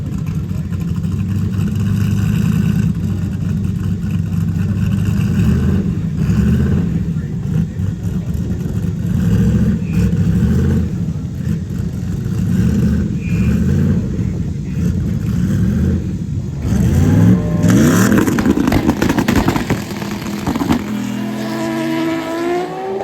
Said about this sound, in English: Got Supra versus Mustang.